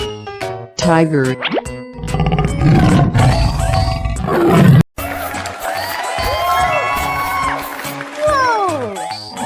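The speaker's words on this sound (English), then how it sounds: "tiger" A cartoon tiger roars loudly in a children's animal slide game, a rough, sustained roar followed by whooshing, bouncy effects and voices.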